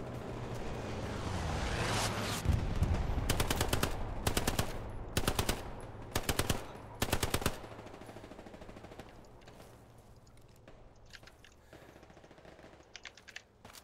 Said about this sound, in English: I heard a Tommy gun.